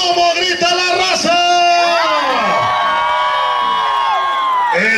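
Large crowd shouting a loud, sustained cheer at a New Year's Eve celebration in Santa Catarina, many voices whooping together close and strong, swelling then fading slightly.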